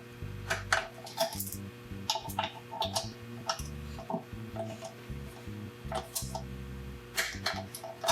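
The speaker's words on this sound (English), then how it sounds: "torquing these to 8 foot-pounds" A torque wrench clicking while bolts are torqued to 8 foot-pounds on a 2022 Tacoma Klima pan mount, giving sharp metallic clicks and ratcheting in uneven clusters, close and fairly quiet.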